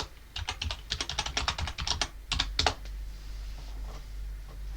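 A password is tapped out on a computer keyboard in rapid, irregular bursts of close clicking keystrokes, which trail off into a quiet hum.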